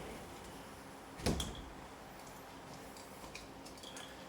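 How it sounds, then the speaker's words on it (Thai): An indoor door closes with one brief muffled thud in an otherwise quiet room, followed by faint small ticks and rustles. "อ่าเดี๋ยวปิดประตูแป๊บหนึ่งนะครับ"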